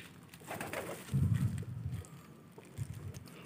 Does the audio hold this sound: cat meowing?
no